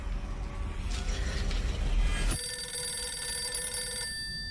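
A telephone rings inside a video game, a steady electronic trill starting partway through and holding over a dense mechanical background din.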